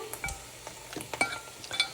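Pumpkin fritters (bora) frying in oil in a home kitchen, a soft steady sizzle broken by several sharp clinks and scrapes of a utensil against the pan, close by with no talk.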